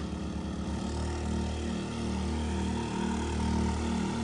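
Two 4-inch water pump engines with 4-metre shafts run together, a loud continuous droning engine roar with wavering pitch as the throttles are revved, close by and without talk.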